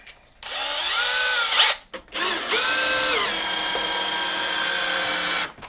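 A power drill drives a trim screw into a countertop stud for washer/dryer countertops, whining up in close, loud bursts with a short pause between runs before a longer steady spin.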